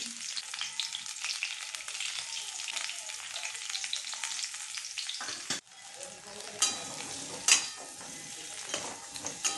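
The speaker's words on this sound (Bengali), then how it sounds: "আলুটা আমার ভাজা ভাজা হয়ে গেছে" Boiled potatoes seasoned with turmeric and salt fry in oil, a continuous close sizzle with stirring scrapes and a sharp clatter midway, no voices.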